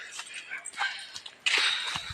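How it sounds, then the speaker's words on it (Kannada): A dog yips and barks loudly at close range in short repeated bursts, with a voice talking alongside. "ನಾಯಿ ಬೊಗಳೊಂದುಂಡು ಜೋರ್"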